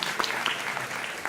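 Audience applause at a public science show, a dense wash of many hands clapping at steady loudness for a brief stretch, with faint voices underneath.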